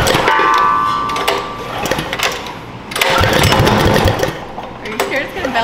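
Propane-supercharged 439cc engine stuck at full throttle, a fast rattling buzz loud and close, with people talking over it in bursts.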